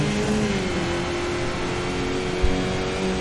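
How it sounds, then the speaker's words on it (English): A Skip Barber race car in a racing video game held at full throttle on a straight at Oulton Park, its engine a steady high droning tone with a brief bump near the end, no talk. "So on full throttle again"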